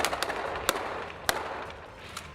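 Sharp gunshots ring out during a police and army assault on terrorist hideouts on an island, several scattered cracks and bangs at irregular intervals over a rough outdoor background.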